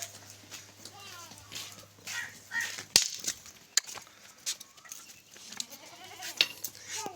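Goats bleating in a village yard after getting out, several calls scattered across the stretch alongside hoof clatter, with people talking and shouting over them.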